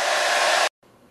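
A hair dryer blasts air toward the middle of a bowl, a loud steady roaring rush that cuts off abruptly, leaving quieter background noise.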